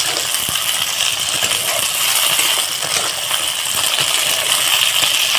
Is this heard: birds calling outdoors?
no